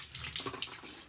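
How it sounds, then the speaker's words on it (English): Tap water runs briefly into a sink while someone wets their face before a wet shave, a soft, faint splashing that lasts only a moment with no talk. "All right, let me wet my face a little."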